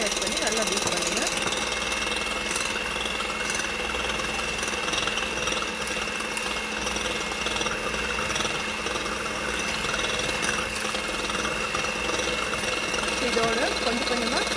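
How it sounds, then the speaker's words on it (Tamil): Eggs are beaten into vanilla cupcake batter with a steady, loud, droning whir that runs unbroken throughout. "முதல்ல முட்டை ஆட் பண்ணி நல்லா பீட் பண்ணுங்கள்."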